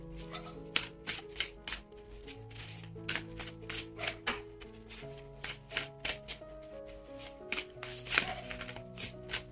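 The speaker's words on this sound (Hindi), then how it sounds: "दोनों डेक में से 7 कार्ड लेंगे, एक है ओरेकल डेक और एक है टैरो। तो शुरुआत करेंगे शफल करके।" Tarot and oracle card decks are shuffled by hand in a rapid series of crisp riffling slaps and taps, close up, over soft background music.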